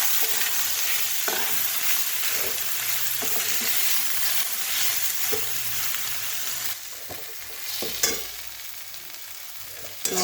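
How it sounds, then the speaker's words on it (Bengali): Soybean chunks, sprinkled with water, fry lightly in a wok with a steady, close sizzle and occasional stirring scrapes, with no talking over it. "জল ছড়িয়ে রেখেছিলাম, এটা আমি হালকা ভেজে নেব।"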